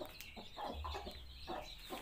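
A mother hen clucks softly in short repeated bursts among newly hatched chicks on a farm. The sound is faint and nearby with low background rumble.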